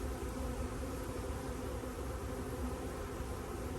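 Honey bees in a farm hive hum in a dense, steady drone, a close continuous buzz of many insects with no voices.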